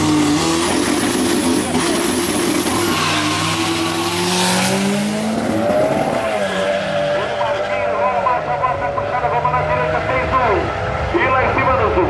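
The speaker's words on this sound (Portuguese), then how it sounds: "Pra quem gosta de carro moderno contra carro raiz, essa é uma puxada sensacional." A modern Volkswagen Jetta TSI races a turbocharged 1954 split-window Volkswagen Beetle rated at 600 hp. Engines roar loudly and steadily throughout, with rising revs, tire squeal and skidding. A voice is present under the noise.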